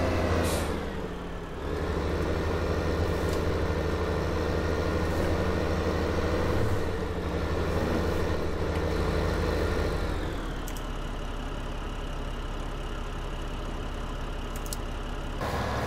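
A tractor engine idles in Farming Simulator 2015 on the Melbury Estate map, a steady low diesel rumble that holds throughout, with a short hiss near the start and a slight drop in level partway through, no talking.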